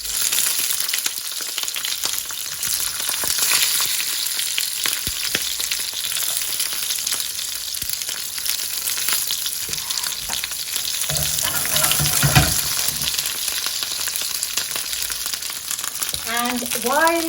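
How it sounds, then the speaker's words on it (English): Aubergines fry in a little sunflower oil with a steady, dense sizzle and occasional stirring clatter, close and continuous throughout. "Just fry them in this little bit of oil until they get a little bit of color."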